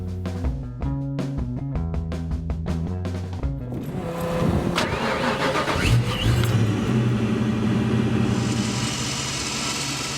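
A Fox-body car engine cranks over with rhythmic starter pulses, catches, and settles into a steady rumbling idle with a few revs, close by.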